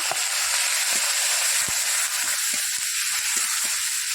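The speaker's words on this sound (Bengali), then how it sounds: "পেঁয়াজটা ভালো করে ভাজা হবে, একটু বাদামি কালার হয়ে যাবে।" Onion paste frying in oil with dried red chillies, whole cumin, garam masala and garlic paste in a Bengali doi katla curry, a steady close hiss of sizzling with soft irregular pops and crackles throughout, no voices.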